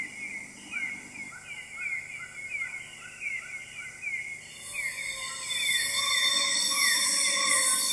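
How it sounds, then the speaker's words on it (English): Night insects in the rainforest of Mulu National Park, Borneo, a dense chorus of rhythmic chirps and trills, with a louder continuous buzzing drone swelling in partway through. "Besides a lot of insects that you can hear in night and you can find at night"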